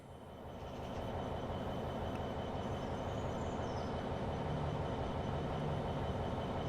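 A heavy 1,000-ton freight train in Train Sim World rumbles and rolls along the rails in a steady, continuous drone that swells up over the first second and stays constant, with faint wheel squeal above.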